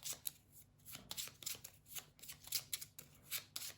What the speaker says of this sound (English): which means that we have to shuffle this